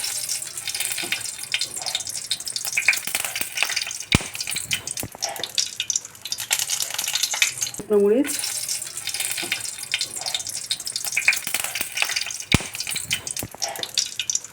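Whole spices crackle in hot mustard oil in a kadai, making a steady hissing sizzle with scattered small pops and a brief clink partway through.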